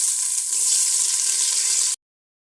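Onion and chili frying in a cup of oil for white pulao, a loud, steady, bright sizzle that runs alone without pause and then cuts off abruptly.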